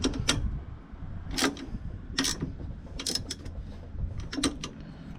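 Nylon locknut being tightened with a wrench on a ride-on lawn mower with a Briggs and Stratton engine, giving several short, sharp ratcheting clicks in an irregular rhythm, close and fairly loud over a low steady background.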